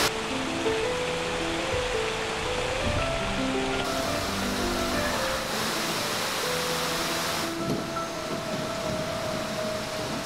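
Steady, dense rushing water of the main waterfall in Takachiho Gorge, Japan, roars continuously and close by, a broad wash of falling water with no voices.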